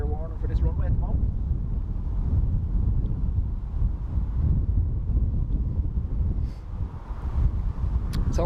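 Strong wind buffets the microphone at Dublin Airport, a steady loud low roar with gusty swells throughout, and a voice speaking briefly at the start.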